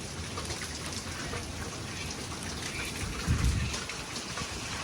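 Steady monsoon rain falls on fields and a courtyard in Devbhumi Dwarka, a constant soft hiss of drops on surfaces with a brief heavier splash near the end, no voices.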